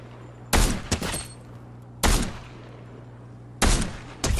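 Gunfire in the video game Fortnite comes in three sharp, loud bursts of rapid shots spaced about a second and a half apart, with quiet gaps between.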